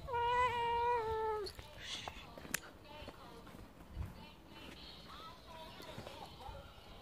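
A pet cat gives a long wavering meow up close, followed by quiet rustling and soft room noise, with faint talk in French.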